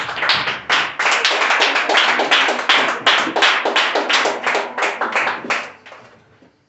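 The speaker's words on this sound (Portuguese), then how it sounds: "Aplauda o Senhor e pode se assentar" A church congregation applauding: loud, close, rhythmic clapping in a fast regular beat, sustained before tapering off and stopping abruptly.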